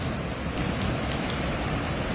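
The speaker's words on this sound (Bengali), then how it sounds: "তারপরেও বৃষ্টি উপভোগ করছি" Steady, dense rain pattering on surfaces, a continuous hiss with scattered louder drops, no voices.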